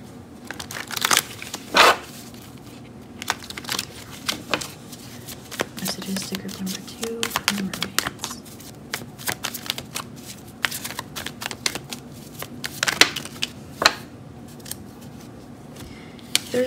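Tarot cards being shuffled and handled, with repeated crisp riffles and rustling bursts scattered across a quiet background, close and moderately loud, alongside faint soft handling noise.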